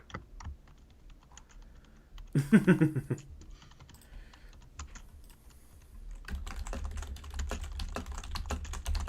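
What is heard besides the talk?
two people typing on computer keyboards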